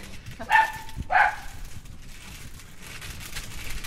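A dog barks at a white cane outdoors, two short sharp barks close by in quick succession, then quiet background.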